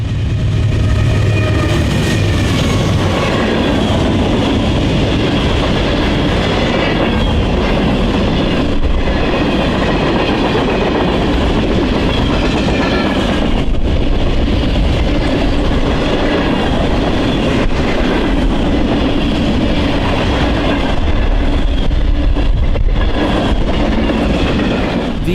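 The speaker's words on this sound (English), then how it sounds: "we caught westbound manifest train 11K." Westbound manifest freight train 11K passing close by, an Allentown, Pennsylvania to Elkhart, Indiana run. Wheels clatter steadily in a loud, continuous rumble, with squealing and rhythmic clickety-clack as the cars roll past, and no voices.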